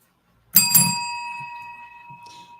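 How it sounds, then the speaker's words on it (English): A single bright bell, like a bicycle bell, rings out sharply twice in quick succession and its tone lingers as it fades. "That's a bell."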